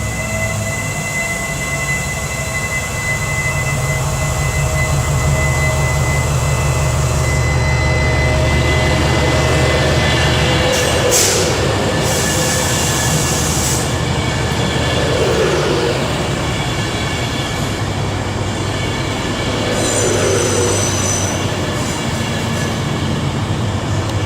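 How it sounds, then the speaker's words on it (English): Avanti West Coast Class 390 Pendolino 390-130 City of Edinburgh passing through Nuneaton, London Euston to Manchester Piccadilly: loud sustained rail roar with tonal hums, rushing air and brief high squeals, no talk. "coming in behind me is going to be City of Edinburgh 390-130, working the 1710 Avanti West Coast service from London Euston to Manchester Piccadilly"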